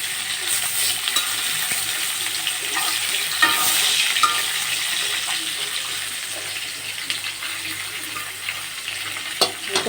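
Fish frying in a pan in a home kitchen, a continuous close crackling sizzle with occasional louder spits and stirring clatter, no voices.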